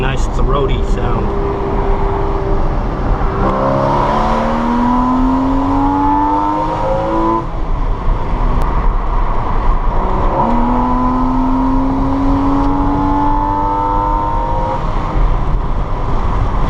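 A 2014 Porsche Cayman 981 with the 2.7 engine revs up and down in a throaty, sustained drone, pitch rising through two clear climbs, heard from inside the car with voices talking over it.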